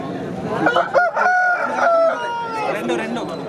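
A fighting rooster, a Rasingi cock offered for sale at the Saturday country-chicken market in G. Mamidada, crows loudly and close with a long drawn-out call. Market chatter and voices mix in around it.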